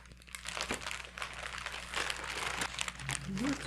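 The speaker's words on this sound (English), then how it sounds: "And I'm going to peel back the paper." Parchment paper is peeled back from a freshly baked Swiss roll sponge, a close crackling rustle that continues steadily while a person speaks.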